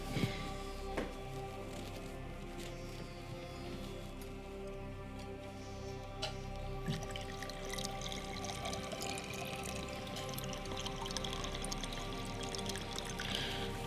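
Water poured from a vessel in a quiet indoor home, a soft steady trickling stream running for several seconds over a low background hum, faint and fairly close.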